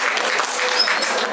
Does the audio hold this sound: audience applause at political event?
yes